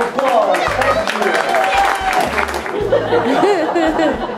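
An audience at a live show breaks into applause and clapping mixed with chatter and some laughter, lively and close, while a person speaks over the crowd.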